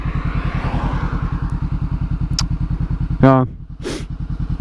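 Honda CB500F motorcycle riding along a road, its engine thrumming in a steady fast pulse close up, with a brief rising whine and a short voice heard partway through.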